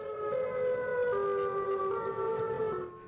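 A Siren Head monster in a video game lets out a loud, continuous wailing siren with steady layered tones that hold for about three seconds before trailing off.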